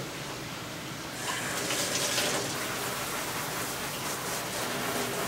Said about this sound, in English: All I'm going to do is gently rinse Mom off with warm water.